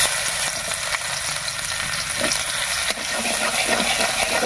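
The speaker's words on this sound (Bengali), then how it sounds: "আর ফোড়ন দেব গ্রেট করা রসুন আর পেঁয়াজ কুচি।" Grated garlic and chopped onion drop into hot oil, producing a dense, steady hiss of frying that continues evenly at close range with no talking.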